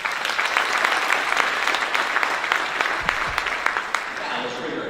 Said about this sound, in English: Just get a round of applause.